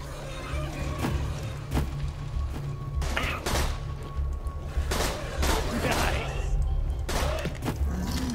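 Gunfire in the video game Borderlands 2, repeated sharp shots at irregular intervals over a steady low game soundtrack, with someone talking throughout.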